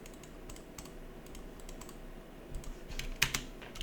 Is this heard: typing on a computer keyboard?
yes